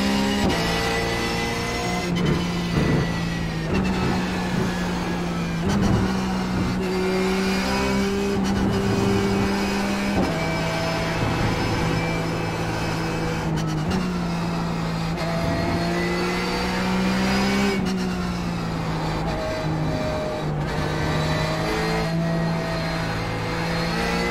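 Porsche 911 GT3 race car engine in iRacing at COTA, a loud continuous drone rising and falling through gear changes, steady and close for the whole stretch.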